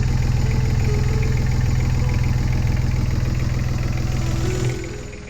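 Sailing yacht's inboard engine running steadily with a newly fitted water pump, salt water flowing through it and out the exhaust; a loud, continuous close-up mechanical drone with rhythmic pulsing that eases slightly near the end.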